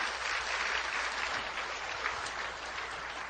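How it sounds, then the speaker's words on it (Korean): Steady, dense applause from a church congregation during a patriotic sermon, a broad even wash of many hands clapping at moderate distance, sustained throughout with no talking over it. "박수로 하나님께 한번"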